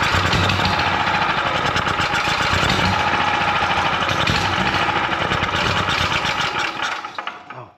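A Champion generator engine under repair runs loud and close with a rough, steady mechanical clatter for several seconds, then quickly dies away at the end.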